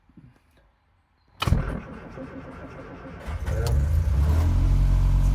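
A classic car engine on choke cranks and catches after a short near-silent pause, then settles into a steady, loud, rough idle close to the microphone.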